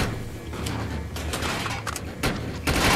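Gunfire in the sci-fi game Deviance, a rapid cluster of sharp shots over a low background rumble, with a louder burst near the end.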